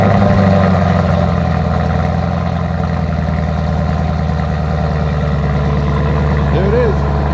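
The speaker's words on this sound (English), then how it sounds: "we're gonna do one last cold start just for the love" A Chevrolet Camaro ZL1 V8 idles after a cold start with an AWE Tuning touring non-resonated catback exhaust, a loud, steady, deep rumble that holds throughout with a slight rise near the end.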